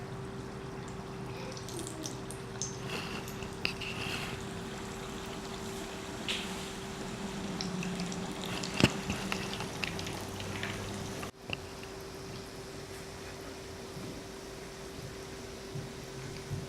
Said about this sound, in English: I'll reduce the heat and then I start cooking the half cake.